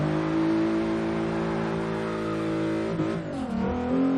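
A turbocharged VR6 engine in an MK3 Golf accelerating hard in first gear toward redline, a loud, steady rising engine drone with strong harmonics, briefly dipping near the top before climbing again.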